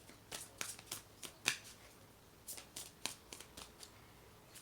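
Tarot cards being shuffled by hand, heard as a series of soft, close riffling flicks and slaps in uneven bursts, quiet overall and without speech.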